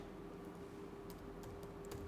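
Rapid keystrokes on a computer keyboard rattle along steadily at moderate volume, a continuous run of light clicks with no voices, set during a programming lesson.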